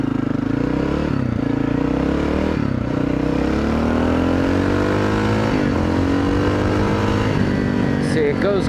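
A motorcycle engine, freshly fitted with a new carburetor main jet, revs up and holds steady around 4,200 RPM, a loud continuous drone that climbs in pitch and stays close throughout, with someone talking over it.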